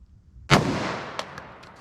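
A single loud .357 Magnum revolver shot from a 4-inch barrel firing a Critical Defense round cracks sharply after a quiet moment, followed by a decaying outdoor echo and a few faint clicks.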